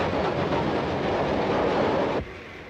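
A train runs past in a 1937 film serial, a loud, dense roar and rattle that holds steady before dropping off sharply near the end, with no speech.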